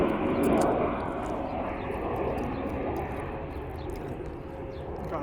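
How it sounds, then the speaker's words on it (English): Airplanes flying overhead give a loud, steady roar that fills the whole stretch, swelling at the start and then holding, with faint outdoor sounds underneath. "God, I love those airplanes."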